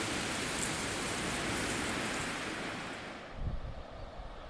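Sea waves washing against the foot of chalk cliffs and their fallen rock on the Côte d'Albâtre, a broad steady roar of surf that eases before a nearer wash of water, with no talk.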